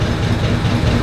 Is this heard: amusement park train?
yes